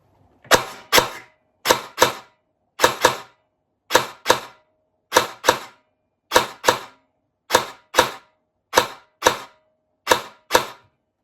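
An electric-motor gel blaster fires single shots in a steady rhythm, about one per second. Each shot is a crisp, close double snap, and the shots stand alone against silence.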